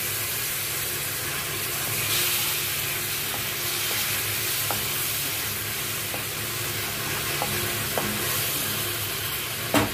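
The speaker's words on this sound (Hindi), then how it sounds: "भूनने देंगे इसको ढक के" Tomatoes fry in oil in a covered pan over a low flame for mustard fish, a soft, continuous sizzle with occasional faint ticks and pops.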